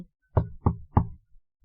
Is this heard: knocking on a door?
yes